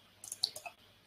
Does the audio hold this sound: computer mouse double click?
yes